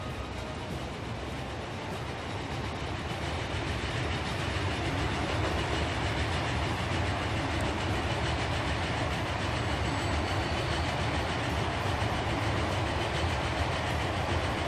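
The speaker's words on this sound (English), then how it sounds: "Obviously these steam trains are slowly going to start dying out" Steam freight train running in the video game Transport Fever, a steady continuous rumble and clatter of wagons rolling along the track, loud and unbroken throughout with no talking.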